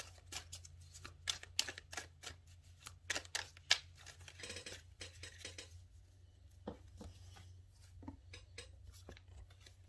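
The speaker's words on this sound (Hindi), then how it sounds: "मैं इसको अच्छे से शफल कर रही हूँ" A deck of playing cards is shuffled by hand, giving quick bursts of crisp riffling clicks and soft slaps in an uneven rhythm, close and fairly quiet over a low steady hum, with no talking.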